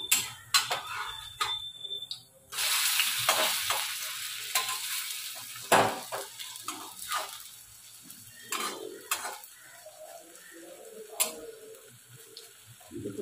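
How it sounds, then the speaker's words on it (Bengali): Food fries in a pan with a steady sizzle, broken by sharp clinks and scrapes of a utensil and a louder burst of hissing early on, close and clear with no talk. "ততক্ষণে এবার এটা ভাজা হোক"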